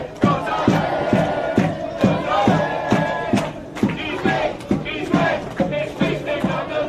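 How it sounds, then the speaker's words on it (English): A football crowd at a Gibraltar Rock Cup quarter-final between Manchester 1962 FC and St. Joseph's FC chants in rhythm, with regular loud beats like claps or a drum driving the singing. The sound fills a stadium at steady volume. "It's got the crowd going."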